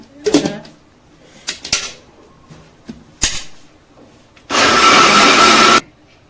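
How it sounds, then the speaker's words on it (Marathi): A kitchen mixer grinder whirs loudly for about a second near the end, grinding dosa batter for sponge dosa, after a few scattered clicks and knocks of handling. "आता आम्ही लावत आहे मिक्सरमध्ये आहे ना."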